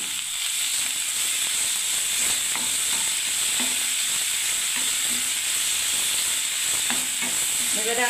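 Chhana stirred into gravy in a hot frying pan sizzles and hisses continuously, with soft scraping strokes of the spoon recurring every second or so.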